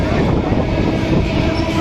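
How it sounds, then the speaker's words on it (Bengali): The Sealdah–Lalgola passenger train pulls out with a loud, steady, close rumble of carriages and wheels on the track, heard from inside. "আমাদের ট্রেন ছেড়ে দিয়েছে"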